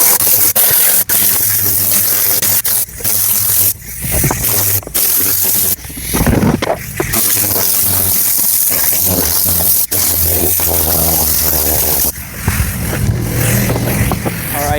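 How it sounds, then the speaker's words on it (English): Air compressor powered by a DJI Power 2000 portable power station: a loud, continuous mechanical hiss and hum with occasional spraying bursts and brief changes in level. "as the air compressor is running"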